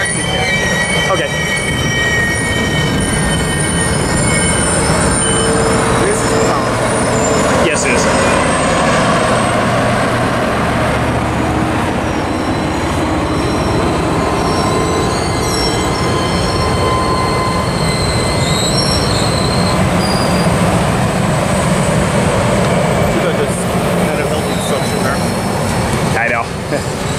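Union Pacific 4014's steam train cars roll past at Slover in a continuous loud rumble, with steady clattering and high metallic wheel squeals throughout.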